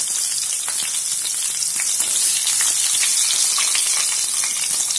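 Green chillies sizzle in hot oil with cumin while sabudana khichadi is being made. The frying is loud and close, a steady, unbroken hiss and crackle, with no voices.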